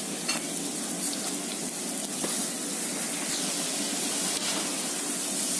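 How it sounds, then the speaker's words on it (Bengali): Chilled french fries fry in hot oil with a loud, continuous sizzle and crackle, close up and steady throughout, with no speech. "ঠান্ডাকৃত ফ্রেঞ্চ ফ্রাইগুলো এখন আমরা ফুল ফ্রাই করে নেব। ছেড়ে দিচ্ছি গরম তেলে।"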